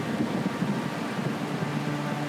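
A thunderstorm in an animated adventure series, heard as a steady, loud wash of rain with low rumbling thunder throughout, no speech over it.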